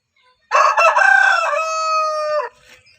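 A chicken on a farm where broody hens sit on eggs gives a single loud, drawn-out crowing call of about two seconds, close by and alone, with no talk.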